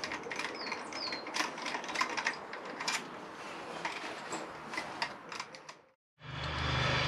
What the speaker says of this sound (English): I'll take all of these bolts out